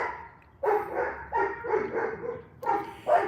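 Several neighborhood dogs bark in bursts at a moderate distance, separate volleys of barking with short pauses between them, heard outdoors in a garden in the Philippines.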